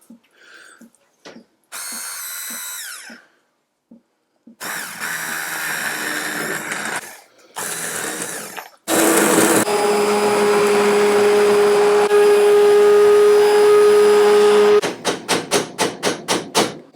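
A blender whirs through boiling hot food in several short bursts, then runs in one long loud steady blitz with a whining motor tone, ending in quick pulsed stops.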